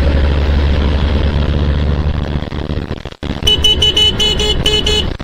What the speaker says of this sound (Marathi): jam, traffic jam